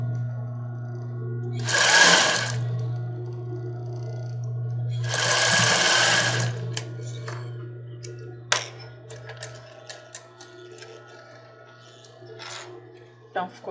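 A sewing machine stitches fabric for a baby doll nightgown, turning the base as it sews. Two loud whirring bursts of about a second each are followed by scattered clicks and small handling knocks, with no talk.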